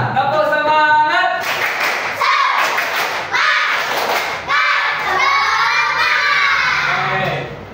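A classroom of young children performs a spirited clapping chant, with loud, close group voices shouting in rhythm over repeated thumping claps throughout.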